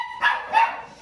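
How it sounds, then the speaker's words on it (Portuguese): A dog nearby lets out two short barks in quick succession at moderate volume over a faint steady background hum. "E o cachorro aqui, ó."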